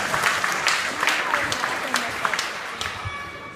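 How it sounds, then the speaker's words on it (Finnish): A studio audience applauds after Aino's wall-kicking performance, a steady wash of clapping with sharper individual claps standing out, while a presenter keeps talking over it. "Annetaan isot aplodit ja otetaan Ainon pisteet."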